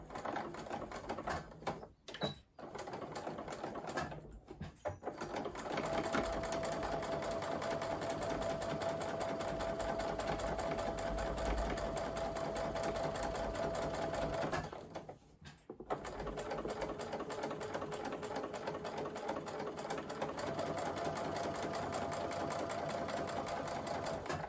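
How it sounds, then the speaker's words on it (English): A sewing machine top stitches along a folded fabric edge, whirring in a steady fast rhythm for long stretches, with two brief pauses and restarts. It sounds close and even. "top stitch just down one edge"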